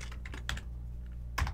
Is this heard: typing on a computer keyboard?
yes